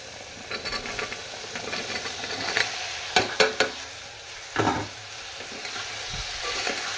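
Vegetables tossed into a pan with softened tomato, giving a continuous sizzle broken by several sharp spatula knocks and scrapes against the pan, close and fairly loud.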